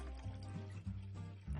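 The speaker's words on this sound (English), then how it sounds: "and just pour that around the bottom of my turkey" Low-sodium chicken stock poured into the bottom of a turkey roasting pan, a close, continuous liquid splash with a few gurgling surges and no talking.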